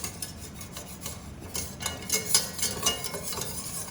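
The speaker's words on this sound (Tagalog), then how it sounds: "So, I'm cooking the flour with the butter." Flour cooking in butter for a lasagna sauce, giving a soft, even sizzle with scraping strokes of a spoon that grow busier partway through.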